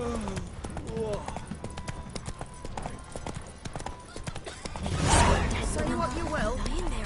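Horse hooves clip-clop in a steady galloping rhythm in The Witcher 3, close and continuous, with a game character's voice speaking over it and a louder rush of movement near the end.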